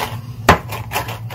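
A knife chops chimichurri herbs and ingredients on a board: one firm thud followed by a few lighter, quick chops, close and clear with no talk.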